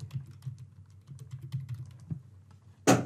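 Someone types a short workflow name on a computer keyboard, a quick run of soft, close key clicks that ends with one louder keystroke.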